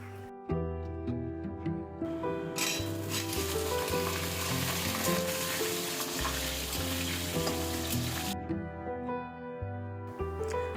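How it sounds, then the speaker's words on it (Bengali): Diced potatoes fry in hot mustard oil, a loud dense sizzle that rises sharply and holds steady for several seconds before dropping away, with faint music underneath and no talking. "আলুটাকে আমি ঢাকা দিয়ে দিয়ে হালকা করে ভেজে নেব"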